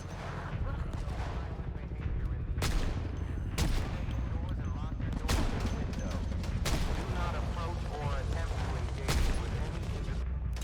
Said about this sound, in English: Many gunshots go off